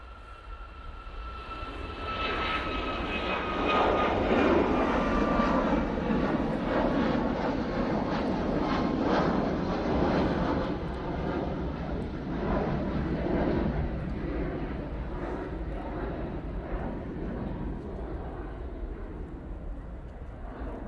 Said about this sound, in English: Next departure is this Ryanair 737 MAX 8. It's going off to Malta now.